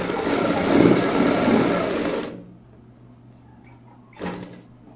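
Sewing machine stitching the seam of pleated palazzo pants, a loud steady mechanical whir for about two seconds that stops abruptly, followed by quiet and a short second burst near the end.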